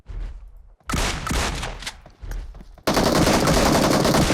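DBS shotgun blasts in the mobile battle royale PUBG Mobile, heavy booming shots in quick succession and then a dense, sustained roar of gunfire, loud and close with no talking.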